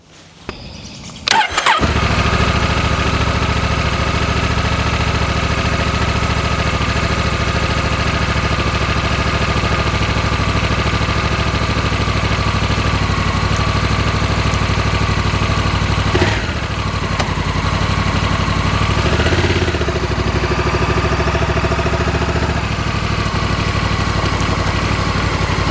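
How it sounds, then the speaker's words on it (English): A motorcycle engine starts up, then idles steadily and loudly nearby for a long stretch, with a brief dip and rev partway through. "So we'll give it a shot on the motorcycle."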